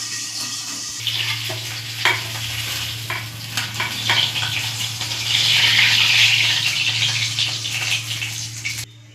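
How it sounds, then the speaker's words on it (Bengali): Tangra fish fry in oil in a covered pan, making a loud, continuous sizzle with scraping and clattering stir sounds in the first half. The frying swells into a denser hiss before cutting off abruptly near the end. "বাকি মাছগুলো এইভাবেই ভেজে নেব।"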